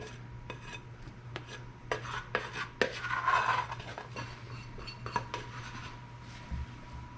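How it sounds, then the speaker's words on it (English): Sourdough bread dough is scraped from a kneading bowl in a series of soft rasping strokes and light clicks against the bowl, close and fairly quiet over a low steady hum. "And then I can just kind of scrape the rest of the dough out of there."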